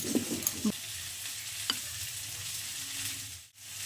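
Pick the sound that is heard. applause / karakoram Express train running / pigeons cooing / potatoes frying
potatoes frying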